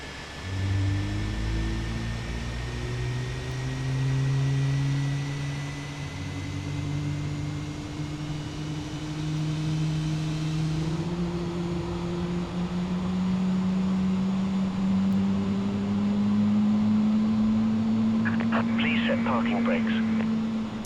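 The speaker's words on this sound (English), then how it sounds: "Let's start engine number 1" An airliner engine starts up in Microsoft Flight Simulator, a steady whine rising slowly in pitch over a low rumble, building gradually and staying loud and continuous.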